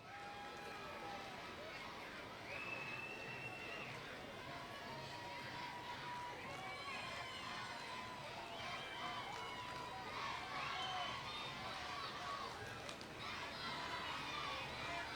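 At a Veterans Day parade, a cheer squad chants amid a lively crowd of shouting, cheering voices, heard faint and distant as a continuous mix of group calls and chatter.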